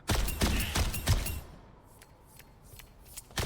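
Doomfist firing in Overwatch 2: a quick rattle of sharp shots up close for the first second and a half, then quieter scattered pops and a final burst at the end.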